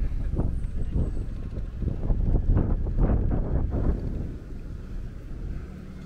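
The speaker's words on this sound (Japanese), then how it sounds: "風が強いね。" Strong wind at Waikiki Beach Walk in Honolulu buffets the microphone, making a steady low roaring rumble with gusty surges throughout.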